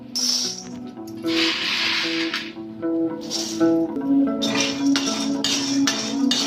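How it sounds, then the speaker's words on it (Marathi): Chickpeas tipped into a hot kadhai for dry roasting give repeated hissing, rattling bursts, with steady background noise running underneath. "मी आता गॅस चालू केला आहे कढई तापत आलेली आहे आता मी चणे त्याच्यामध्ये टाकते आहे"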